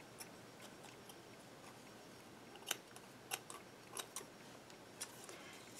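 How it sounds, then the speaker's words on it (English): Scissors snipping off excess card paper while making a card, a series of faint, crisp clicks spaced irregularly in a quiet room. "I'm going to cut off the excess right here."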